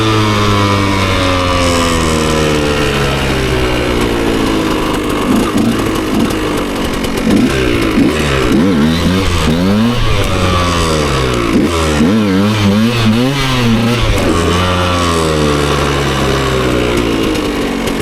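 A motorcycle fitted with an AliExpress wheelie bar revs loudly and steadily during a wheelie attempt, its engine note rising and falling in drawn-out surges, close and continuous for the whole stretch.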